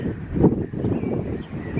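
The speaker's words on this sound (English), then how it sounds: "sorry, it's gone windy" Gusty wind buffets the microphone on an allotment garden in the UK in a low, rumbling rush that swells and eases over a couple of seconds.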